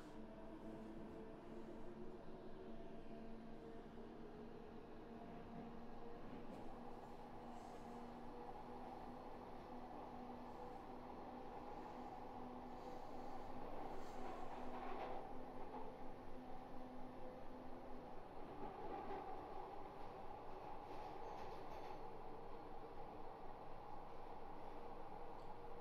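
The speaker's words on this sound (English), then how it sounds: "this train just suddenly lurches into brake mode and still comes to a stop on time" Glasgow Subway train running on the Inner Circle and braking to a stop, a steady rumbling hum with tonal motor whine that drops away partway, then louder rhythmic rail clatter and grinding as it slows.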